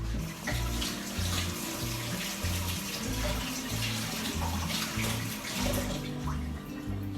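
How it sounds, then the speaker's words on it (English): Hands are washed under a running tap in a kitchen, a steady broadband rush of water lasting several seconds with a soft rhythmic bass beat underneath and no speech. "Wash my hands."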